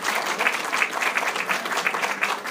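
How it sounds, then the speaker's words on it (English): A conference audience gives a warm round of applause to two presenters being introduced; dense, even clapping from a sizable crowd, steady and fairly loud, with no talking over it. "warm round of applause"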